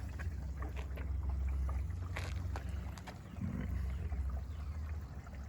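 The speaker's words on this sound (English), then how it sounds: "Airlocked. Listen, nothing's happening. You can hear it humming." A steady low hum from an airlocked pump after a drain and fill, close by and continuous, with some faint clatter and rustle over the drone.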